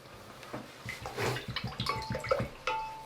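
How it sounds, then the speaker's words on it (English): A watercolour paint brush being rinsed in a water pot: close, quick splashing and swishing with small drips and clinks of the brush against the container, in short irregular bursts, no talk. "Rinse the brush out."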